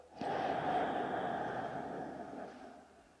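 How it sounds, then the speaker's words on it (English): A slow, steady inhale through the nose in a breathing exercise for anxiety: one close, airy breath held for about three seconds and then fading, with no talk. "Breathing through your nose, you want to inhale to the count of four"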